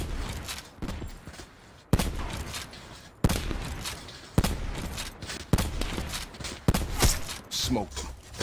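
Gunfire in Call of Duty Black Ops 4 during a 1v1 match: repeated sharp, loud shots spaced irregularly across the stretch, with in-game footsteps and other noise between them.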